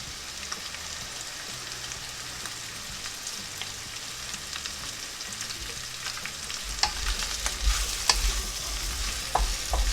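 Chunks of boiled beef brisket browning in a hot pan give a soft, steady sizzle close by, with occasional stirring scrapes and louder crackles toward the end.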